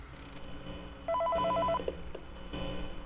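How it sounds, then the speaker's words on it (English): A telephone rings inside the horror video game Five Nights at Freddy's 3, a short burst of rapid electronic trill pulses standing out clearly over low background hum, then fading back to quiet room noise. "So, let's listen to the phone call."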